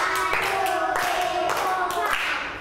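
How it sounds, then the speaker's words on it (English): Children clap their hands together in a classroom math lesson, with a handful of evenly spaced claps over a steady tonal background. "how many times did they clap their hands?"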